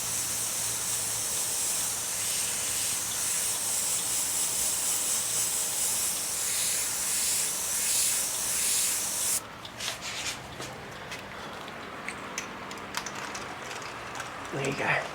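Airbrush spraying white paint, a continuous bright hiss lasting about nine seconds that cuts off abruptly, followed by quieter clicks and handling noises.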